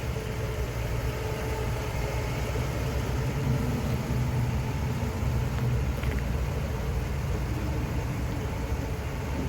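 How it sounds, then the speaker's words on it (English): A 1957 Pontiac Star Chief convertible's TriPower engine idles in a steady, even low rumble, close and continuous with no pauses. "No funny noises coming out of the engine bay."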